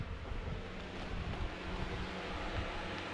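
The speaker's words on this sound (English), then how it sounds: "Sounds like a waterfall." Steady broadband rushing of water heard through an aqueduct vent, like a distant waterfall, continuous and fairly loud with no talking.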